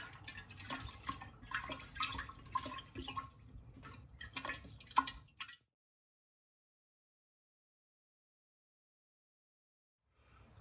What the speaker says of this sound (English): I will add 7 cups of water, cold water, to really cool this down